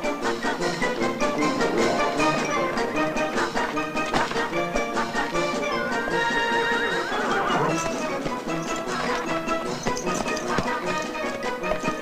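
Horses in a 1970 Western film scene whinny and neigh while hooves clatter continuously, a busy, loud mix of galloping and restless animals with shouting voices in among them.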